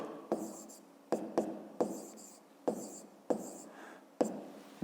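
Pen strokes scratch on paper during a fifth-grade maths exercise, coming in short bursts of writing separated by brief pauses, close and quiet.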